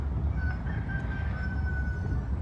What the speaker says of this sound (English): You can hear a rooster out there somewhere.